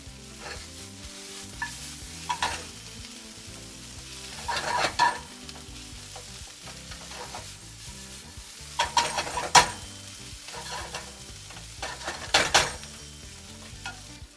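Onions caramelize in a pan for an Agri-Koli style mutton dish, giving a continuous soft sizzle broken by a few louder bursts of stirring and scraping.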